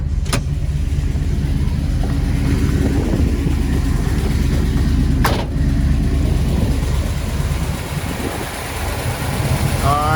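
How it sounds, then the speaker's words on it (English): A 1975 Pontiac Trans Am with a 455 V8, shaker hood and dual exhaust idles steadily, a deep, continuous low rumble heard close up, with a couple of faint clicks and no noticeable revving. "Engine has a great sound to it at idle."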